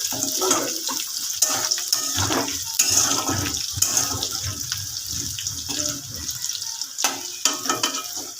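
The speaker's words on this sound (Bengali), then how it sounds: "পেঁয়াজ ভাজার জন্য পেঁয়াজটা অল্প করে দিচ্ছি।" Sliced onion fries in hot oil left over from frying bhetki fish. It makes a steady, hissing sizzle with irregular crackles and pops, and the occasional scrape of a spatula.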